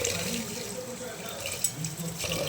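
Green gram and black gram lentils being washed in water for pongal: a soft, continuous sloshing and swishing close by, with one small knock partway through.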